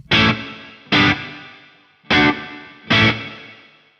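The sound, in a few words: small room reverb effect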